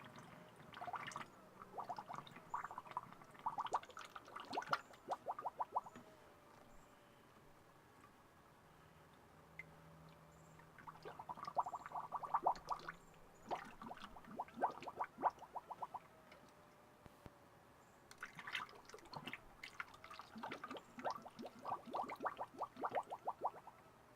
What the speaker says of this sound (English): the bubbling like that is a good sign